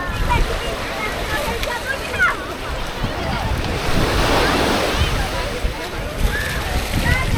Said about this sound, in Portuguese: Vamos lá, caminhando pela belíssima praia da Daniela.